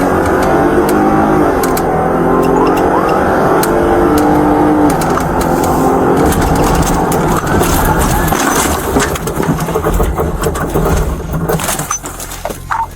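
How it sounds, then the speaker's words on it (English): A police car speeds along a road at about 74 mph, with a loud, steady engine roar and rushing road noise throughout, close and continuous, fading slightly toward the end. "The officer's vehicle was traveling at 74 miles per hour"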